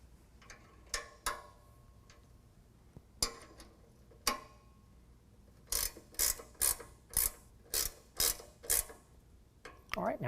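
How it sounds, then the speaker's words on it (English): A 5 mm Allen wrench tightening M8 bolts on a truck bed rack mounted on a 2022 Toyota Tundra, with scattered clicks and then a quick run of sharp, evenly spaced ratcheting clicks. "We're going to use a 5 millimeter on our M8 bolt on the top and a 13 millimeter for the nut."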